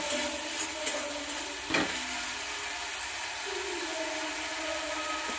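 Egg curry gravy is sautéed in a pan, producing a steady, even sizzling hiss throughout with one sharp clack of a utensil early on.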